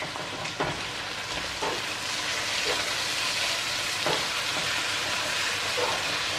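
Chicken browning in a pan, a steady close sizzle with faint stirring scrapes and utensil clicks running throughout.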